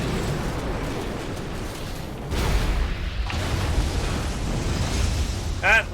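An Eradicator bot in StarCraft 2 blows up with a loud, rumbling explosion boom mid-clip amid ongoing battle noise, with voices speaking over the scene.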